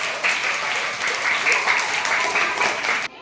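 A group of children clapping together at a street game celebration, a dense, fairly loud burst of hand claps that carries steadily for about three seconds before cutting off abruptly.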